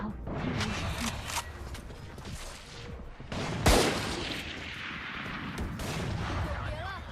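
Phantom rifle fire in the mobile game Valorant Mobile cracks out in short bursts and single shots, with one loud blast near the middle among softer distant game noises and mechanical clicks, and a voice speaking faintly at times.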